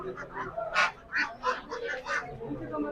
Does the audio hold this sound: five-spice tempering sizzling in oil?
no